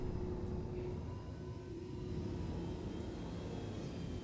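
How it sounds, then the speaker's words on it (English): A spaceship engine with afterburner in the video game Star Citizen gives a steady, low, airy roar, moderately loud and unbroken for the whole stretch, with no talk over it. "Maybe I'm just not pressing the afterburner enough"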